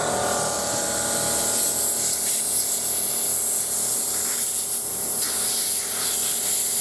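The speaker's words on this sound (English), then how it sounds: "Oh, I hear a leak." Compressed air leaks from an onboard air system, a steady close hiss that runs continuously over a low mechanical hum.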